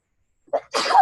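A single sneeze sounds close and loud after a moment of silence, with a short intake of breath followed by a sharp, explosive burst.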